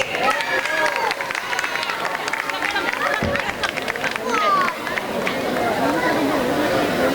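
A crowd at a residential flag hoisting ceremony in Mumbai cheers and claps for children, producing a steady, loud wash of applause, whoops and chatter that continues throughout.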